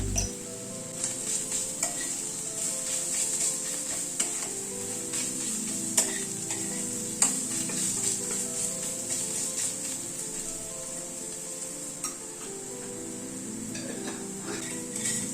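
Ground spices are stirred into onion, ginger and garlic in a pan for a chicken dish, giving a low, steady sizzle broken by occasional spoon clinks and scrapes against the metal.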